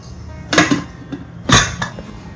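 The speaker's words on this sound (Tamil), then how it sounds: "ஃபர்ஸ்ட் இந்த பருப்பை நம்ம அடுப்பில் வச்சுக்கலாங்க" Metal pot of lentils being set onto a stove, with two sharp, close clanks of cookware about a second apart and lighter knocks following each, and no talk.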